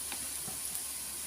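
Onions sautéing in a pan over the stove give a steady, close sizzle and hiss that runs unbroken through the short moment, with no voices.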